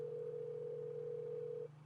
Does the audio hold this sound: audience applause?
no